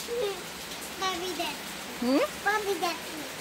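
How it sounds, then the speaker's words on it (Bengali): Steady rain patters at night in the background while a child and an adult talk in short bursts over it. "দেখো কেমন বৃষ্টি হচ্ছে"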